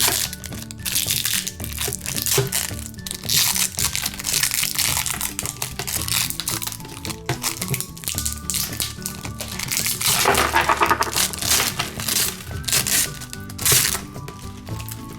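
Packing tape being peeled and ripped off a giant yellow frozen surprise egg, a dense run of crackling, crinkling tearing noises that continues close and fairly loud throughout, with no talking.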